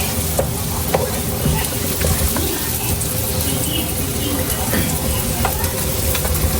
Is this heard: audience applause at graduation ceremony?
no